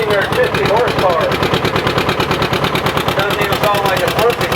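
A John Deere R tractor engine loaded on a prony brake dyno at about 50 horsepower at the 2008 Rollag show, pounding out a steady, loud rhythmic firing beat close by while people talk over it.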